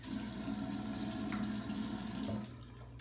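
Water runs steadily from a bathroom tap in a master bath, a constant close hiss that stops abruptly near the end.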